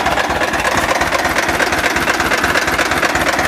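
A tractor pulling a cultivator through a field chugs steadily nearby with a knocking, rumbling rhythm and a constant hiss over it.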